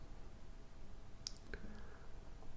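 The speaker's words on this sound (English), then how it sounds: "So here, for example, I just click here" A computer mouse clicks twice in quick succession, sharp and faint, against a quiet room hum with no talking.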